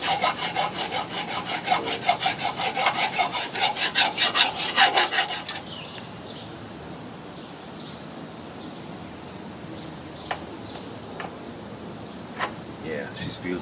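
A hand file rasps in steady back-and-forth strokes on the metal of a Simplicity Sunstar mower cutting deck, dressing down bumps, for several seconds before it stops, followed by quieter shop sounds and a few faint knocks.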